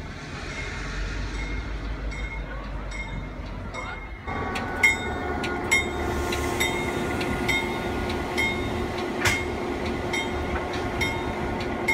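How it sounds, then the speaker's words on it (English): An Adirondack Scenic Railroad train approaches along the tracks, a steady rolling rumble that grows louder partway through, with repeated rail clicks and metallic squeals as it nears. "There's an actual train coming on the tracks that we're gonna be on. This is the Adirondack Scenic Railroad coming"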